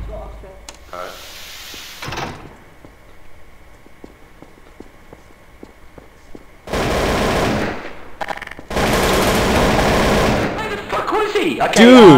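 Gunfire in the video game SCP Breach: a quiet stretch of rapid, evenly spaced shots followed by loud, dense, sustained bursts of automatic fire, close and harsh, with voices briefly heard.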